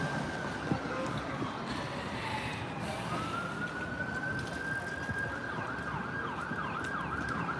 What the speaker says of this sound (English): here come the, sounds like, ambulance